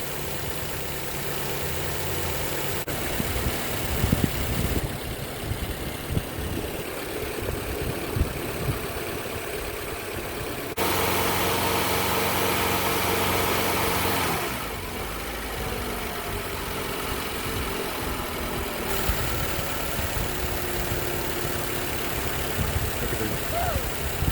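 A 2021 Toyota Highlander Hybrid engine runs and idles, then rises in a sustained rev before settling again, with someone speaking intermittently nearby.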